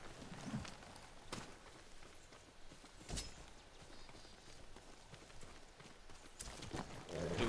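Horse hooves clip-clop in the video game Ghost of Tsushima, a few sharp, irregular hoof strikes spaced apart over a quiet ambient bed, fairly close.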